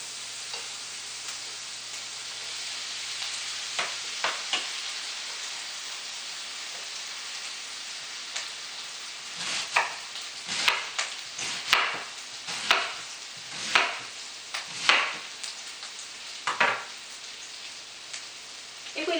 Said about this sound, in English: Okay, now my butter melt. I just saute onions.